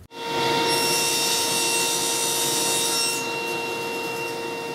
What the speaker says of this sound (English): With a new thin kerf blade installed, we're going to cut the second half of this board